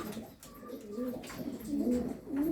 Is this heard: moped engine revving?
no